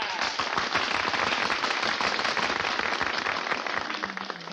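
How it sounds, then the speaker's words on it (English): A circus audience in an old radio comedy show bursts into loud, dense applause and cheering that stays steady and fills the scene before easing slightly at the end. "Hey, they're applauding us."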